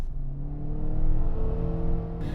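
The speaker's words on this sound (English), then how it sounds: "What I want to talk really about today is the car I'm driving, which is the TDI." A 2015 Volkswagen Jetta TDI diesel car drives with a steady low engine hum and mild rising drone, heard from inside at moderate loudness with no talk.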